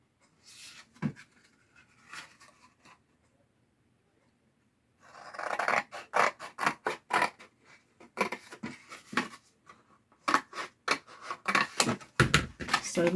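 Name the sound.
scissors cutting food packaging for a junk journal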